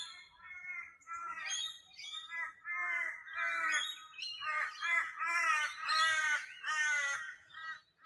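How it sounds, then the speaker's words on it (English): Crows or ravens caw and squawk almost continuously in a forest, a raspy chorus of overlapping calls from several birds, fairly close and prominent with no talking. "I think they're crows we're hearing."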